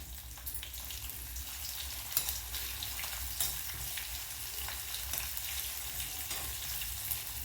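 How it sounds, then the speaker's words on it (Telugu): Mustard seeds, cumin, fenugreek and garlic sizzle in hot oil in a kadai, a continuous quiet frying hiss dotted with small sharp pops and crackles throughout. "ఆవాలు చిటపటలాడాలి."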